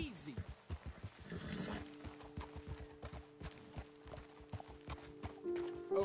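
Horses clip-clopping in Red Dead Redemption 2, a steady run of hoof beats on the ground with a low rumble and some animal noise under it. A voice speaks quietly.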